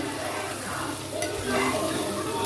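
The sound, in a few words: sautéing fenugreek, mustard seeds and raw mango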